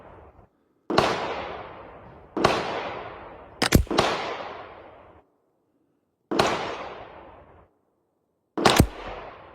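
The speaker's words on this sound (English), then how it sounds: "I'm gonna shoot 5 more of these pistol match in that same group." Several .22 LR pistol match rounds fired one at a time from a rifle at an outdoor range, each a sharp, loud crack with a short decaying tail, spaced a second or more apart.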